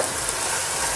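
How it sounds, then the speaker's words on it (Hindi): Ginger and garlic frying in a pan, a steady close hiss and sizzle with no breaks. "अब अदरक लहसुन डाल देना है। थोड़ा सा इसको भून के फिर टमाटर डाल दूंगी।"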